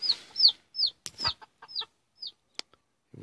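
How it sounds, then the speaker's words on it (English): Giant Cochin chickens give a run of short, high chirping clucks, spaced irregularly, with a couple of sharp clicks in between. "These are my giant chickens."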